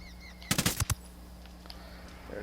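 Sniper rifle fire in a tactical shooter video game, aimed at an enemy in a sniper tower: a quick cluster of about five sharp, close shots in under half a second, then quiet background hum with faint bird-like chirps.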